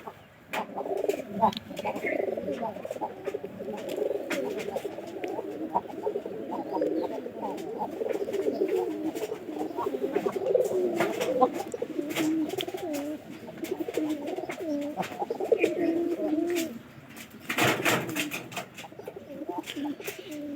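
Pigeons cooing continuously and close by in a soft, throaty warble, several birds overlapping, with faint chirps and small knocks in the background.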